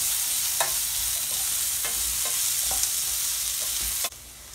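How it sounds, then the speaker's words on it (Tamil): Close, steady sizzling of onions frying in hot oil, with occasional soft stirring scrapes before the sizzle drops off near the end. "இது நல்லா எண்ணெயில் பொரியட்டும்."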